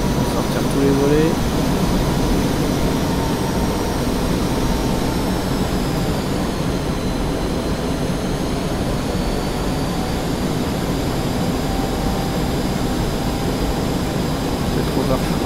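Steady roaring jet engine of an F-5E in the DCS flight simulator, a broad continuous whine and rumble during approach with flaps down, with someone talking over it throughout.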